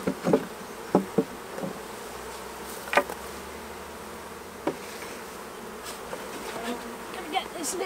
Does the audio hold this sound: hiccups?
no